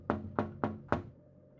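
Four evenly spaced knocks, apparently on a door in a quiet house, land sharply and close before fading into a low room hum.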